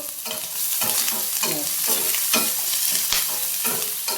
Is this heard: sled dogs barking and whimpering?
no